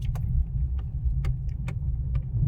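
Car engine running steadily at low revs while a learner driver works the clutch and shifts back into first gear in a tight space, with a continuous low rumble and a few faint clicks and knocks throughout.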